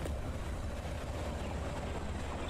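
A train rumbling past in the video game Atomic Heart, a steady low roar with faint rhythmic rattle, moderately quiet and without voices.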